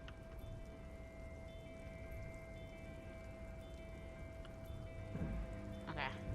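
Steady rain falls in the video game Disco Elysium, a constant hiss with a faint electronic hum beneath, swelling slightly louder toward the end.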